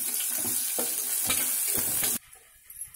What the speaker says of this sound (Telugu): పోపు వేగింది, ఇప్పుడు మనం పసుపు వేద్దాం.